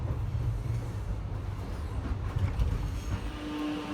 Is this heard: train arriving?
yes